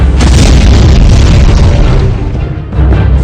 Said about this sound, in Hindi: एक धमाका हुआ